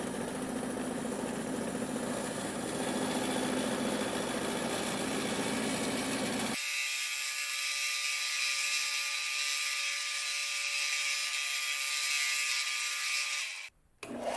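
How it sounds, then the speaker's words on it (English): A bandsaw cuts a recess into the side of a plastic storage bin. It gives a loud, steady machine drone that shifts to a thinner, higher whine partway through, then cuts out briefly near the end. "I'm going to use the bandsaw to cut away a recess for accessing the clips on each side of the bin"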